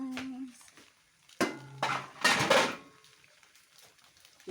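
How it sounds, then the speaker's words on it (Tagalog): A few metallic clanks and scrapes ring out as a lid is set on a cooking pan of pancit with sardines, with faint talk around it. "Tatakpan muna natin guys, tatakpan."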